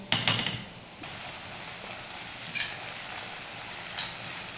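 Spring onion greens and peas sautéing in tempering oil with mustard-seed style spluttering for Jalgaon bharit, a steady close sizzle with a few sharp crackling bursts at the start and occasional pops.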